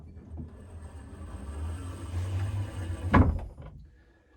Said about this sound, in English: An honest to goodness trap door.